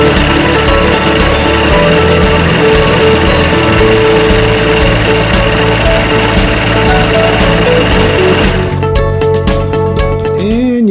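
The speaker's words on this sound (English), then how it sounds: "Now this isn't even set for the fastest speed. I have this motor turned down." An industrial sewing machine fitted with a single fold tape maker, its motor turned down below full speed, running loud and close with a steady rapid mechanical chatter that winds down near the end.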